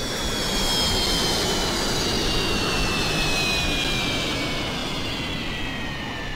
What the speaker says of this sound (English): I'll start to accelerate, and you'll hear the middle layer come in at some point.